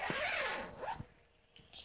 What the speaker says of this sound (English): Let me zip it.